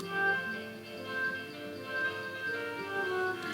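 MuseScore plays a brief synthetic melody alone, with tied notes held across the bar line instead of being struck again. The tone is soft and even.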